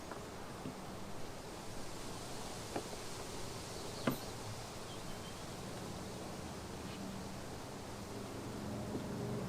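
Honey bees buzz steadily inside an opened hive, a soft continuous hum with faint clicks and bumps from the frame work.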